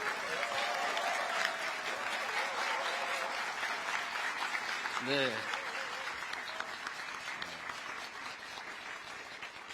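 An audience at a government town-hall policy forum in Gangwon Province, Korea, applauds and cheers loudly and steadily throughout, with a voice briefly speaking over the crowd.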